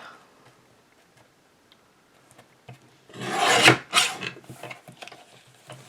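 A recycled Christmas card is cut down to size: a short burst of crisp scraping and slicing strokes, close and fairly quiet, after a few seconds of near silence with faint ticks.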